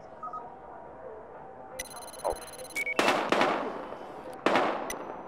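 Gunshots crack in the Battlefield Hardline video game, several sharp, loud bangs in an irregular burst near the end, following quieter electronic beeps and a low ambient hum.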